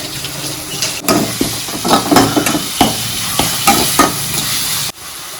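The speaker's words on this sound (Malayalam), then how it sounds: "വേപ്പിലയും കൂടി ചേർത്ത് കൊടുക്കാം. ഒന്ന് മിക്സ് ചെയ്തെടുക്കാം." Salt and curry leaves are stirred into jackfruit thoran in a hot pan, with a spoon scraping and clacking in irregular strokes over a continuous sizzle, close and loud.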